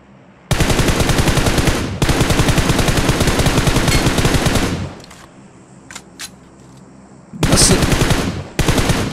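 Sustained automatic rifle fire in a PUBG-style battle royale shooter, a prone player spraying long loud bursts, then a pause with faint distant shots before two more close bursts.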